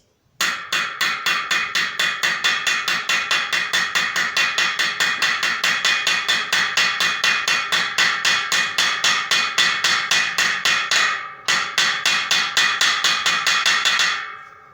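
A hammer taps a bearing gently into place with rapid, evenly spaced metallic strikes, dozens in a row, with a brief pause before the steady tapping resumes and stops.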